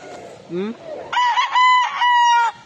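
A large, tall rooster crows loudly and close by, a drawn-out cock-a-doodle-doo preceded by a short squawk.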